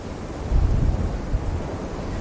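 Wind buffets an outdoor microphone near a shrub, a low rumbling gusty roar that swells in the middle and fades without settling, with no voices.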